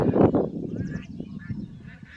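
Geese honking close by: a loud burst of overlapping honks at first, then scattered, quieter calls trailing off.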